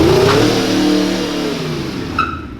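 An Aprilia RSV4 APRC sportbike revs close by to warm its tires before a ride, a loud steady engine drone with a rising pitch early on that eases back, then a brief sharper blip near the end.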